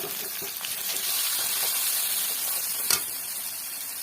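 Masala of turmeric, cumin and chilli powder frying in a pan with tomatoes for an amodi fish curry, a steady close hiss with faint stirring scrapes and a brief sharper crackle near the end.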